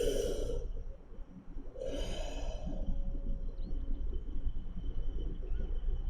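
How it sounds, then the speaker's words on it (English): A suppressed yawn comes out as two long, breathy sighing exhalations, close and fairly loud, separated by a short pause, over low background game ambience. "Sorry, fighting off a yawn."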